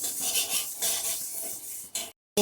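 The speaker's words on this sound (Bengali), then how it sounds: "এই যে মুগ ডাল ভাজতে দিয়ে দিয়েছি কম হিটে" Mung dal dry-fries and is stirred in a pan over low heat, a continuous close scraping and rustling of lentils against metal with a soft hiss, broken by a brief silence near the end.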